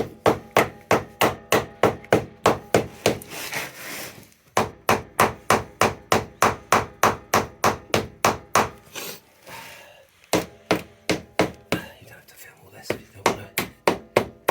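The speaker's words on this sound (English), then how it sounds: "lots of hammering" A mallet repeatedly strikes an Aprilia clutch release bearing to break its seal, a long run of steady, evenly spaced sharp knocks, close and loud, with a couple of brief pauses between bursts.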